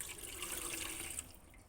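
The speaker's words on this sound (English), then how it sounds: "I'm gonna pour in my water" Water poured into a home humidifier, a soft continuous trickle and splash close by that tapers off near the end, quiet and without speech.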